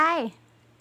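A single short, high meow slides downward in pitch and fades out, close and fairly loud, followed by near silence.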